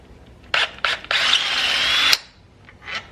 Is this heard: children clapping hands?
no